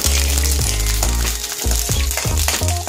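Curry leaves and dried red chilies fry in a pan for tomato rasam, giving a loud, close sizzle with a low steady hum and repeated bursts of crackle as they are stirred.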